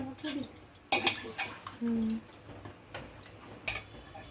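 A spoon stirs chicken biryani with added water in a metal pot, making scattered scrapes and clinks against the sides. A brief steady tone sounds partway through, with quiet gaps between the strokes.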